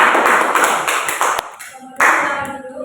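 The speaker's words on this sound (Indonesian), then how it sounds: "beri aplaus untuk kelompok 2" Applause from a classroom of students for a student group presenting biology work, a burst of clapping that fades after a second and a half, then a second short round of claps.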